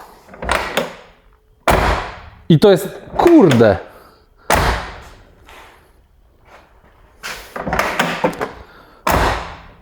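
The door of an Alfa Romeo Spider car is shut several times, each a sharp, solid thunk close by, with someone talking excitedly between and over the slams.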